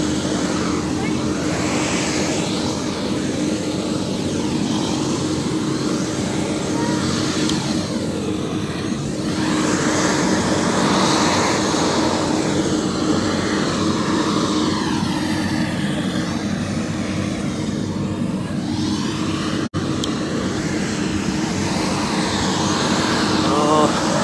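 Helicopter ride over Kathmandu, a loud, constant cabin drone of engine and rotor filling the whole stretch, with voices speaking over it and a brief sharp click near the end.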